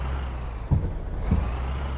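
A heavy truck engine in the video game Truck Simulator Ultimate rumbles low and steady in snowy weather, with two dull mechanical knocks as the truck begins to move off.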